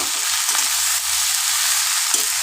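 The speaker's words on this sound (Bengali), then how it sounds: "এবার এটাকে নাড়াচাড়া করে ওই লাউটা" Chunks of bottle gourd fry in a hot pan, a steady broadband sizzle running throughout with a few soft scraping stirs, close and fairly loud, no voices.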